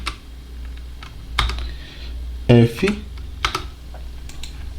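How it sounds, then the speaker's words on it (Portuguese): Computer keyboard keys are typed in a few quick, sharp clicks and one short burst, fairly close, while a person speaks over steady background hum. "eu acabei digitando errado"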